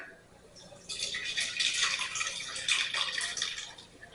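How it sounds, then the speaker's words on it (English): Roast beef cooking liquid poured through a strainer into a clean pot, a soft steady splash and trickle with dripping, close and fairly quiet, with no one speaking. "we're going to pour all that through the strainer"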